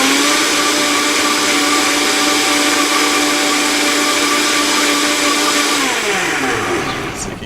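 A blender whirs loudly and steadily while blending aloe vera into juice, its motor pitch holding level before dropping as it winds down near the end.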